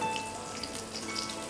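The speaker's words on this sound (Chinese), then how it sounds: "慢慢煎個鴨胸" Duck breast pan-frying over medium heat, a soft continuous crackle and sizzle of fat in the pan, fairly faint and steady for a moment with no talking.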